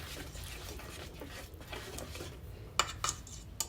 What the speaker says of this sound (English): Make sure your egg is blended.